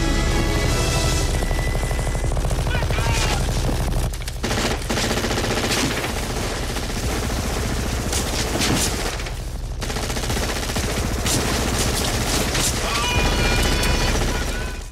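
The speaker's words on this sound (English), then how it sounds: "in this clip from Predator, the minigun has a regular rapid beat" Rapid minigun fire from the film Predator, a dense, continuous roar of gunfire with a regular rapid beat, loud and sustained throughout with brief dips and crashing impacts mixed in.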